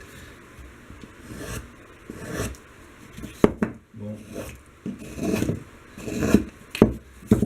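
A freshly sharpened wood gouge, honed on sandpaper and stropped on leather, pares into wood in a series of short rasping cuts, near and crisp, with brief pauses between strokes and a single spoken word.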